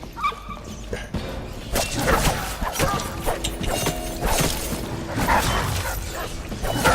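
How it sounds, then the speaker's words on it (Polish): A dog barking and yipping in the stealth game Dishonored, a series of fairly close, agitated barks and whimpers over busy game sounds with thumps and a voice talking. "Jeszcze pies."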